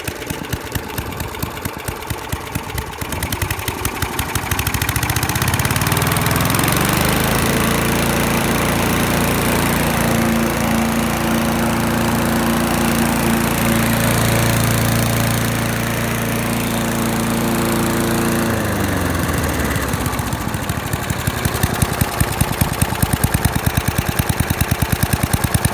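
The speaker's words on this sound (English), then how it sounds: "Very smooth sounding engine." A 1986 Snapper push lawn mower engine with electric start runs close by, a loud steady chugging drone that settles into an even idle midway before turning rougher again near the end.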